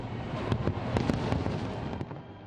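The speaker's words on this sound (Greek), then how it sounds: "Φαντασμαγορικά πυροτεχνήματα και στο Ρίο Ντε Τζανέιρο της Βραζιλίας." Fireworks bursting over Copacabana beach in Rio de Janeiro at the New Year 2016 celebration, a dense run of loud cracks and booms close together with no talk.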